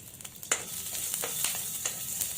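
Three cardamom pods and five cloves frying in hot oil in a pan, giving a soft, steady sizzle with small crackles and pops scattered throughout.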